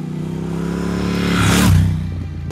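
Triumph Thruxton RS motorcycle accelerating hard through the mid-range, its engine note rising steadily in pitch and loudness, close by, with a whooshing pass near the end.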